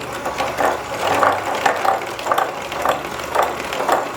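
An electric mixer whirs through carrot cake batter in a rhythmic, pulsing churn, its beaters swelling and easing about twice a second at moderate loudness, with no talking.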